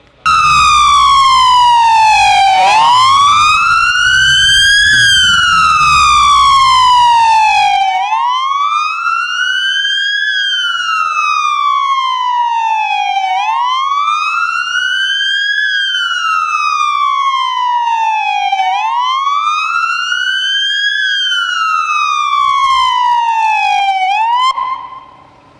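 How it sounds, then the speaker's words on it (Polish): Police sirens wail at noon in tribute, loud and close, rising and falling in long sweeping cycles, with a second, lower engine rumble heard under the first few seconds before the siren continues alone. "w całym kraju w piątek w dniu jego pogrzebu o godzinie 12 zawyły syreny"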